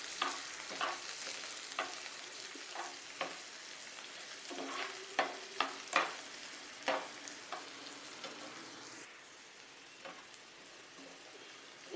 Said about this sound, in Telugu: తర్వాత ఆనియన్ ముక్కలు వేస్తున్నాను. ఇవి కూడా బాగా రెడ్డిష్ కలర్ వచ్చే వరకు వేపుతున్నాము.